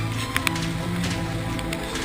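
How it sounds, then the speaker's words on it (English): Heavy torrential rain with strong winds pours down on a sailboat in a dense, unbroken hiss, loud and close, with a few sharper drops tapping near the start. "we had strong winds and torrential rain, just torrential rain."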